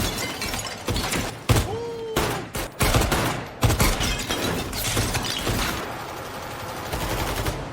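Gunshots ring out during shooting practice in a film, a rapid series of loud, sharp cracks with brief gaps, mixed with music and other effects and no talk.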